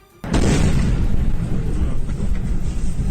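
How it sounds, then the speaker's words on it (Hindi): A sudden loud explosion caught on CCTV bursts out and then rolls on as a dense, sustained roar that fades only slightly over a few seconds. "सीसीटीवी में कैद यह धमाका इतना जबरदस्त था कि देखने वाले की सांस अटक जाए।"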